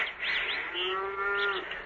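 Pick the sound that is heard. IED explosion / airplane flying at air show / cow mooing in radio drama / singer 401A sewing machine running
cow mooing in radio drama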